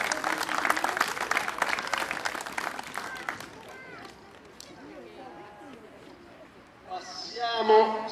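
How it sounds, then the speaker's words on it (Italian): A burst of applause from a crowd at a youth football school event in Spoleto, dense clapping for about three seconds, then fading into scattered chatter and voices. "Un bel applauso, grazie."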